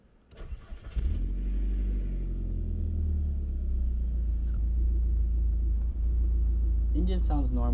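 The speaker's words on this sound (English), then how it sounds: "Engine sounds normal. No odd noises coming from the engine." Volkswagen MK4 GTI turbo engine cranks briefly, then catches and settles into a steady, even idle rumble, close and continuous, with a voice briefly at the end.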